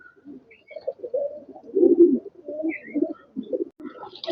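Pigeons of a Kaldum breed cooing close by, a series of soft low throaty coos in an uneven rhythm, with a faint chirp now and then and no talking.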